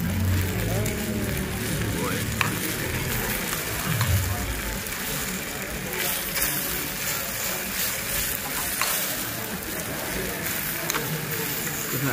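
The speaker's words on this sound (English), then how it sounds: "That sizzle." Steady loud sizzling and crackling of food cooking in a hot pot, continuous throughout, with restaurant chatter and clatter in the background.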